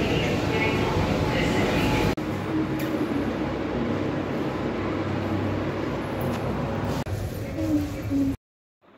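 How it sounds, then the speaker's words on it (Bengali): Steady rumble and hiss of a Kolkata Metro train in motion, heard from inside the carriage, with faint talk underneath and a few clunks. "আমরা মেট্রোতে উঠে পড়েছি।"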